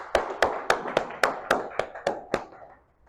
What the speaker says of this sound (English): please give a big round of applause to welcome the Toastmaster of the day